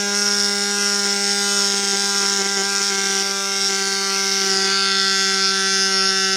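A Cycplus AS2 Ultra electric bike pump runs steadily as it inflates a tire through a Presta valve set to 24 psi, giving a loud, even mechanical buzz with a strong steady whine throughout.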